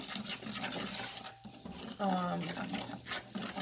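Flour frying in grease for homemade gravy hisses softly as it is stirred and scraped in the pan, with a short metallic rasp midway and a person speaking over the cooking.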